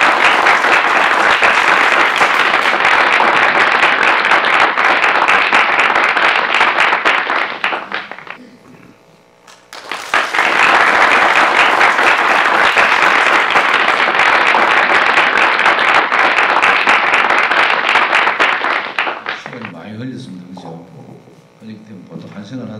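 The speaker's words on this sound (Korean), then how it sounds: "큰 박수로 맞이해 주시겠습니다." Big audience applause welcoming a speaker at a Korean graduation ceremony, two long bursts of dense clapping separated by a brief lull, fading near the end as voices come through.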